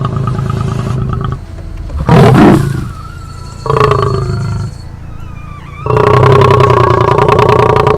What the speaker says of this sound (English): He later keeps growling and shows them how angry he is right now